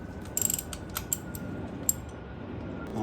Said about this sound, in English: I'm gonna have to loosen the tensioner.